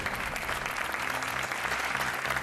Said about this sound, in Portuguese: O vosso aplauso para o Gonçalo Cordeiro!